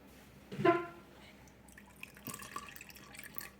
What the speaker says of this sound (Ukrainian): А тепер наш соус готовий, і тепер ми наливаємо його в наш рис.